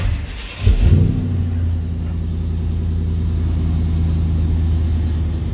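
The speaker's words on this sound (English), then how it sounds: "there's a fuel injected, LT1, FYI, so no pumping. Fires right up." A fuel-injected LT1 V8 in a 1957 Chevrolet 3100 Big Window street rod cranks, catches with a loud burst, then settles into a steady, rumbling idle close by.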